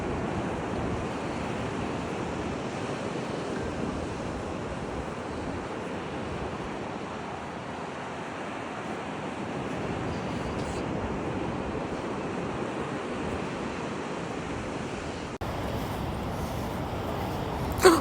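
Surf rolls in steadily along a Gold Coast beach, a broad continuous wash of waves with wind buffeting the microphone, ending in a brief bump.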